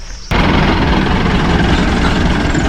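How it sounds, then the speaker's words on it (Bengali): A Chander Gari jeep engine on a dusty hill road to Mirinja Valley, Bandarban, cuts in abruptly after a brief quiet moment, then holds a loud, steady, close rumble with broad road noise. "একটা করে চাঁদের গাড়ি যাচ্ছে আর ধুলা চারদিক ছেয়ে যাচ্ছে"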